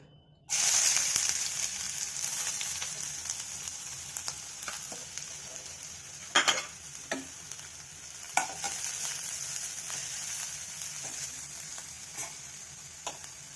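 Onion hits hot oil in a pan for Gobi Manchurian with a sudden loud sizzle, then settles into a steady frying hiss broken by occasional sharp clinks and scrapes of stirring. No one speaks.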